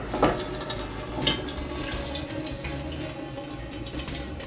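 Water from cooked pasta pouring and draining into a pot, a continuous close splashing rush with a few sharper splatters near the start, heard on its own.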